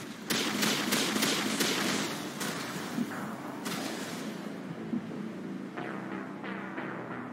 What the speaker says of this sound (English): I think I got sniped and rocketed to the face at the same time